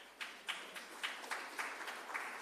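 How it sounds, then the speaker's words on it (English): An audience at a St. James Municipal Corporation city hall meeting claps faintly in a sparse, evenly spaced rhythm of roughly ten distinct claps. "Give yourselves a round of applause."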